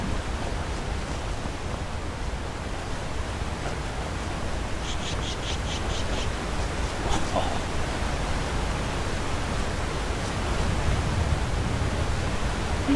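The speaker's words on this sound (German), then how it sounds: "Was für ein Wasserfall." Waterfall in the video game Skyrim, a constant broad rushing roar of falling water heard throughout, steady and fairly loud, with a few faint higher sounds briefly overlaid near the middle.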